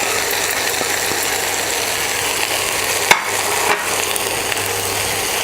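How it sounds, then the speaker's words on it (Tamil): Vegetables for an American chop suey stir-fry on full flame in a pan, giving a loud, continuous close-up sizzle broken by a couple of sharp spatula knocks and scrapes. "வெஜிடபிள் போட்ட பிறகு ஃபுல் ஃப்ளேமில் வச்சுக்கோங்க"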